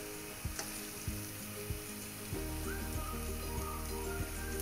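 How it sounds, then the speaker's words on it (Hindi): Egg khagina with green coriander fries in oil on a stove, a steady close sizzle with light stirring taps and scrapes that grows slightly louder partway through. "हमने इसे इतना भूनना है कि तेल अलग से नजर आने लगे।"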